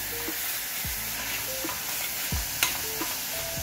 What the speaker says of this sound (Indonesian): Diaduk terus ya, biar matangnya rata dan gak ada yang gosong di bawahnya.